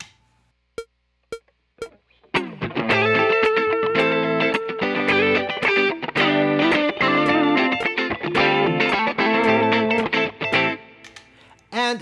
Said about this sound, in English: turn on my distortion pedal